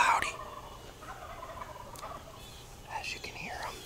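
Wild turkeys gobbling behind a hunter on a cloudy spring morning hunt, several loud calls near the start, then scattered gobbles from varying distances with faint rustling between them.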